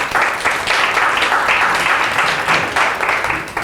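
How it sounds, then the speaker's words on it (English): A conference audience breaks into sustained, loud applause, dense clapping at steady intensity throughout with no voices standing out. "Then, a big applause for Kenneth to be here."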